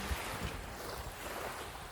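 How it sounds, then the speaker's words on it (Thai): Sea waves wash onto a resort beach in steady surf mixed with wind buffeting the microphone, a continuous broad roar with low thumps and no talk. "นี่ทะเล"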